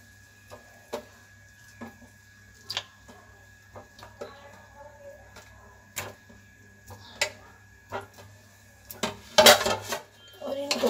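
Carrots are turned through sugar syrup in a pot, with sparse spoon clinks and taps against the metal at irregular intervals, ending in a louder clatter, over a quiet background hum.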